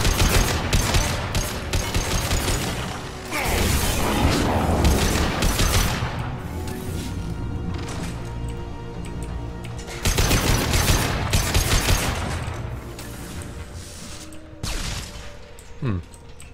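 A hacked turret opening fire in Mass Effect 2: repeated bursts of rapid automatic gunfire with metallic clatter, separated by quieter gaps with lingering tones, and a short sharp sound near the end.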